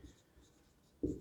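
Chalk or marker writing on a board in a physics lecture on wave optics: a quiet scratchy stroke near the end after faint near-silence.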